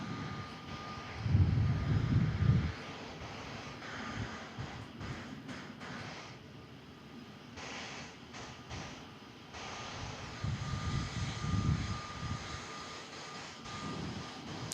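Jetstar airliner touching down at Melbourne Airport: a steady distant roar of jet engines and wind rumble, swelling and easing over several seconds, heard from outdoors.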